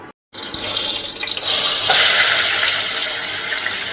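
Chicken legs drop into hot oil in a pan, setting off a loud, close, steady hissing sizzle after a brief silent moment.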